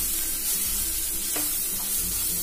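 A spoon stirs cooked raw mango with salt and turmeric powder in a pan, making a soft close scraping and sizzling with a brief clink midway, and no talking.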